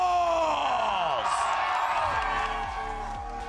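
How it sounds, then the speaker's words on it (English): An arena crowd cheers and yells for Sentinels as the team is introduced at a Valorant esports match for a Masters Bangkok spot, loud and sustained, with falling whoops and heavy bass tones underneath. "you can hear the crowd for the Sentinels"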